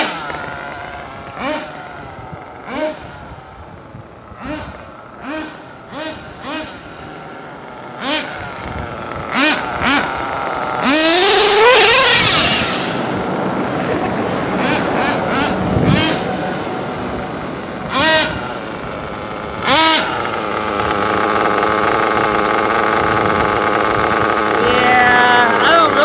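A small vehicle's engine is revved up to full throttle in rising bursts, then a sustained high-pitched run mid-clip, loud and close with wind and handling noise around it.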